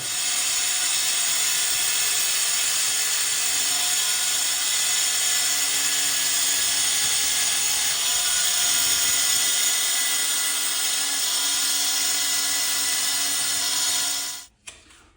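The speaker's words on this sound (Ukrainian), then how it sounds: "Давайте спробуємо вскрити кругом, як воно піде." Diamond cutting disc on an angle grinder slicing through porcelain stoneware tile, a loud continuous high-pitched whine with grinding grit held steady for about fourteen seconds before the cut ends and the tool winds down abruptly.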